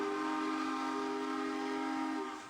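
A train horn or whistle blows one long, sustained, loud blast that holds steady before fading at the end, set on a railway journey in 1923 Britain.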